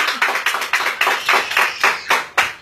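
A small group claps in a short, uneven rhythm, each clap close and fairly loud, a brief burst of applause at an interview with no talking over it.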